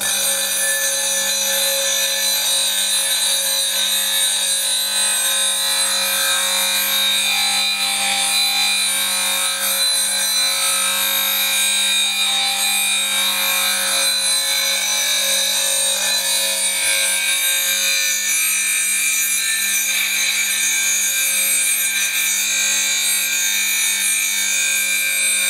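Sandpaper polishing the inner flute of a Continental spindle gouge on a spinning lathe, a continuous even whirring hiss with steady tonal hum throughout, no pauses.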